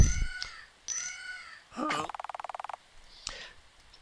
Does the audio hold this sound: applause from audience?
no